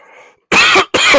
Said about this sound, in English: I really was trying not to cough.